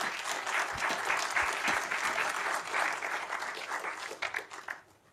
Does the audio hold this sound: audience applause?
yes